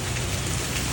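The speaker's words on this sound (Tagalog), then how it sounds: "naghihintay na tumila yung ulan" Steady rain falls on a surface outdoors, a dense continuous patter with no talk, heard while waiting for it to stop before a driving lesson.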